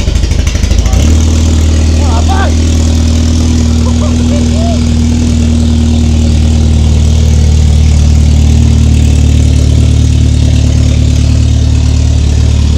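An engine turns over and settles into a loud, steady idle, a deep rumbling hum that continues throughout with brief faint sounds at the start.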